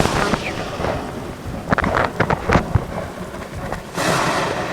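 Thunder rumbling and cracking in a video game lightning storm on a cataclysm-survival island, with a sustained stormy roar, several sharp bursts through the middle, and a swelling rumble near the end.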